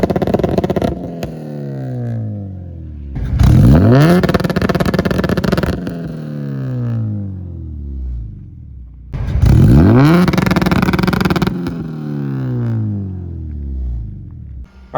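An Acura RSX Type-S engine revs in loud bursts against a two-step ignition cut, rising and falling with sharp stuttering pops at the limiter, two long rev runs separated by idle.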